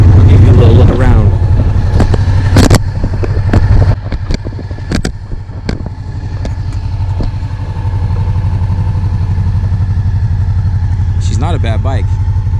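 A 1998 Honda PC800 motorcycle engine runs steadily at idle, a low constant drone that holds throughout while people talk over it early on.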